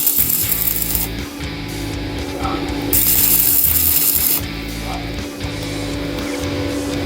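An arc-welding rod burns after striking, giving a steady close crackling sizzle with rhythmic low pulses and brief brighter hissing bursts.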